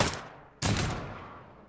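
Gunshots in the Pavlov VR shooter video game, two sharp loud bursts about half a second apart, each trailing off in a long echoing decay.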